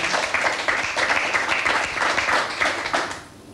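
Applause from a studio audience on a Dutch TV quiz show, a dense and steady clapping that swells in waves and then drops away near the end.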